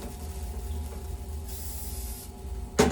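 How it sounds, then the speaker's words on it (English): Short hissing bursts of cooking spray onto a small frying pan at home, faint and close, ending with a sharper spray burst. "put a little bit of cooking spray on our pans"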